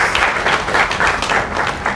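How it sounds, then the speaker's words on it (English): Keynote audience claps in a dense, even burst of applause that holds steady throughout, fairly loud and close, with no talking over it. "So give a clap to yourselves."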